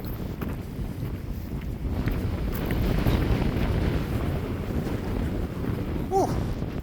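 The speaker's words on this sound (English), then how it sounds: "Wind speed probably 30 to 40 miles per hour, so especially if you're walking against the wind." Strong wind of about 30 to 40 miles per hour gusting steadily across the microphone beside a lake on a nature trail walk, a loud continuous rumbling roar with no talk.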